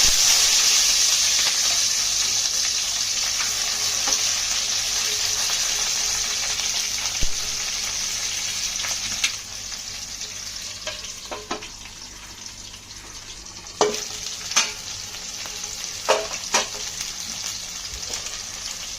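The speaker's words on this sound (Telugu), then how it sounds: "ముందుగా కొన్ని ఉల్లిపాయ ముక్కలు పచ్చిమిరపకాయలు కరివేపాకు వేసి బాగా వేయించాలి" Onions, green chillies and curry leaves fry in hot oil, a bright continuous hiss that is loud at first and then settles, with occasional sharp clicks and scrapes from the pan near the end.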